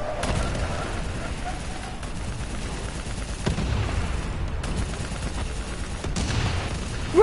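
Dense, continuous video game gunfire with rapid bursts and booming explosions, loud and chaotic throughout with no pauses.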